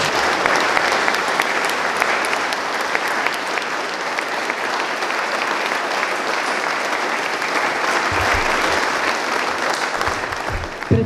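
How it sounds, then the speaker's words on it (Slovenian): An audience at a concert in a restored parish church in Kapele keeps up loud, steady applause. The clapping is dense, continuous and close, with no speech. "Še enkrat prosim za ploskanje."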